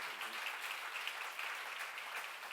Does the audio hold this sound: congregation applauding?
yes